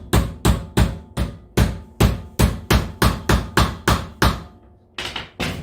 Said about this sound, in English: Tap with my claw hammer.